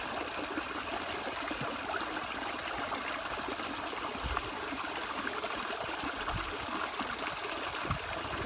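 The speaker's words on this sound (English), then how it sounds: "Water bottle being filled up." Water from a mountain stream trickles and gurgles steadily as a bottle is filled outdoors, close and continuous, with no talking.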